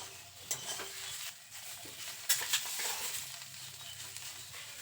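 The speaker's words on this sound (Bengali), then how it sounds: "এবার শাকটাকে খুব ভালো করে ভেজে নেব" Susuni greens fried over low flame in a pan, with quiet sizzling under occasional scrapes and clinks of a spatula stirring against the metal, a few sharper knocks standing out.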